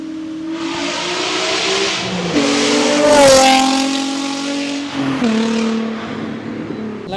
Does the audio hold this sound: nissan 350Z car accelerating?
yes